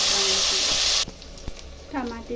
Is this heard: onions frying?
yes